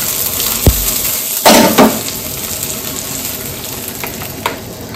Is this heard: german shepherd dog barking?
no